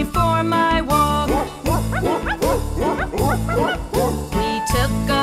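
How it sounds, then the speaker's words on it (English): A dog barks and yips in a rapid run of short, close, loud bursts, with a few whimpering and higher yelping notes mixed in, no talk. "A doggy joined me for my walk."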